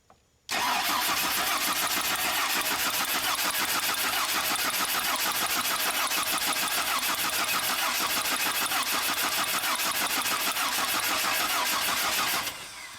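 A 2002 Chevy Silverado engine cranks steadily without catching, a loud, continuous rapid starter churn running for about twelve seconds before cutting off.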